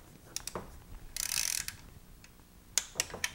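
An ANPUDS ratcheting torque wrench ratchets while spark plugs are tightened, with a few sharp close clicks, then a brief dense burst of ratcheting, then more distinct clicks, and no talking.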